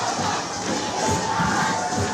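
A crowd from the local Filipino community at a Little League World Series game between the Philippines and Maryland, cheering and shouting loudly and continuously, with many voices merging into a roaring wall of noise.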